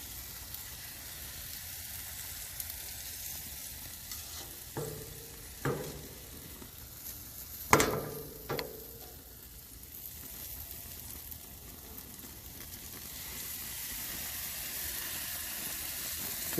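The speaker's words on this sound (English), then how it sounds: "I'll put this chicken on the grill here." Raw chicken cooks skin side down on a grill with a quiet, steady sizzle and hiss. A few sharp clanks and knocks break in at intervals, and no one speaks.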